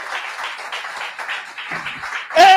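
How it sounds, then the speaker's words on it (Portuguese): Applause from worshippers in a church service, a steady patter of clapping heard alone, ending with a brief louder burst. "Dê um aplauso ao Senhor."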